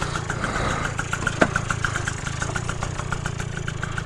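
A scooter fitted with a cheap big bore kit runs at a steady, fast-pulsing idle, close and even, with a single sharp knock partway through and no voices.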